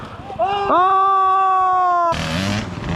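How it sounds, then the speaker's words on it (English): A motorcycle engine on a riverside trail along the Deua River, New South Wales, revs up to a steady high drone for over a second, then cuts to a rougher idle, close and loud. "Heaps more motorbike action."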